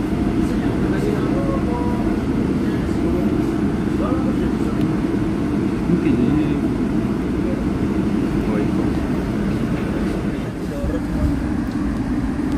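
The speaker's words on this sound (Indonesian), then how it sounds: "Nggak pakai lama kereta api Majapahit langsung berangkat." The Majapahit passenger train pulling away from a station, a loud continuous low rumble and rolling drone that holds steady throughout, with faint higher squeaks riding over it.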